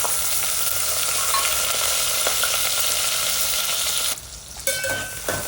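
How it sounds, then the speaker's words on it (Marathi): Tomatoes and curry leaves fry in hot oil with a loud, steady, close sizzle and occasional stirring scrapes, dropping briefly near the end before resuming. "तेल गरम झालं आपलं, आता आपण टोमॅटो आणि कढीपत्ता टाकून परतून घेऊया."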